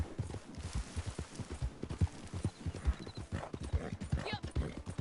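Horse hooves clip-clop in Red Dead Redemption 2, a steady, close, rhythmic run of hoofbeats lasting several seconds over a low background bed.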